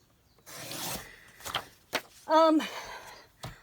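Paper cut on a Fiskars trimmer, a few short close scraping and rubbing strokes with brief gaps and a squeaky slide near the middle, no talk.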